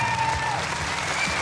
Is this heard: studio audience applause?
yes